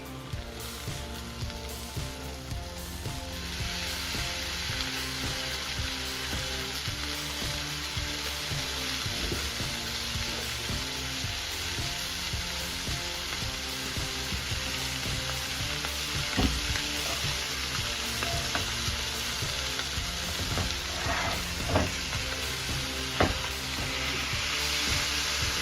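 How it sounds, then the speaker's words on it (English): Flying fish fillet frying in a pan while hot foaming butter is spooned over it, a steady dense sizzle running the whole time with a few faint spoon clinks. "The chef continuously spoons the butter over the top, a technique known as basting, essentially showering the fish in hot butter"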